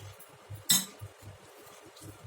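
A lunch box packed with chapati and banana fry is closed, giving one sharp clink of a lid against the container amid soft background hum, close by.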